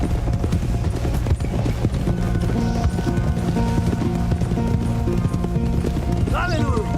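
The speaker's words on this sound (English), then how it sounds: "Ignore my gorgeous white horse." Rhythmic hoofbeats of a galloping white horse in a video game pound steadily throughout over game music, with a brief whinny near the end.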